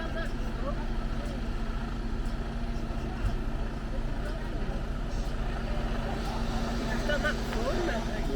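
A big wagon or caravan manoeuvres into a tight campsite pitch at Klagenfurt am Wörthersee, its deep engine rumble holding steady and close throughout, with faint background voices.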